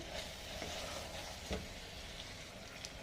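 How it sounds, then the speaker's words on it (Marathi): Peanuts roasting in a pan for a Maharashtrian Bhogi mixed-vegetable dish give a steady, close sizzle and crackle, with a few light scrapes of stirring and no voices. "आणि हे थोडेसे शेंगदाणे आता छान परतून घ्यायचं"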